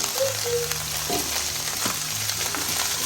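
Onion rice with ghee being stirred and scraped from the bottom of a hot pan, a continuous close sizzle broken by soft spoon scrapes and light knocks.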